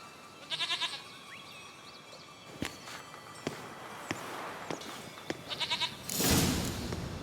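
A goat in The Witcher 3 bleats in two short, wavering bursts, one early and one near the end, over soft footsteps and scattered thuds, with no talking.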